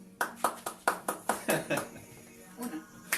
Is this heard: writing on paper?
no